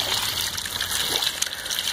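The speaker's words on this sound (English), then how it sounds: "this is not water that I want running out onto the ground" Water pours over the edge of an overfilled aquaponic grow bed in a continuous close splashing trickle that spills onto the ground.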